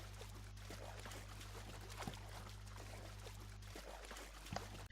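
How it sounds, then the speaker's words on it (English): Roblox swimming effect, a soft watery splashing and trickling loop, faint and continuous with small splashy bursts. "action swim is the sound you'll hear when you're swimming"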